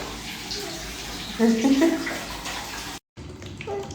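Water sloshes and splashes steadily through a child's bath, with a brief louder burst of splashing and a short dropout near the end; a voice may be faintly present.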